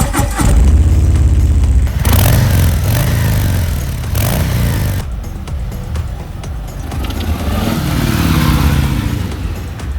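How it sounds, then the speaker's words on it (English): A Harley-Davidson motorcycle engine revs repeatedly, its deep exhaust rumble rising and falling in several loud bursts, close by and without any talking. "that is one of the most soulful exhaust systems I've come across in a very long time."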